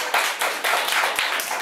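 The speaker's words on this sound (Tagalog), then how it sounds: "Isang malakas na palakpak para kay God." A congregation claps together at a worship service, sharp broadband claps in several loud bursts with short gaps between them, no voices over it.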